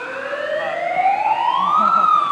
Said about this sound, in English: You'll hear a siren, 3, 2, 1, go.